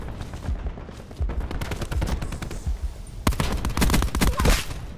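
Rapid gunfire from Call of Duty Black Ops 4 multiplayer, with sniper rifle shots among dense, loud bursts that build in intensity toward the end.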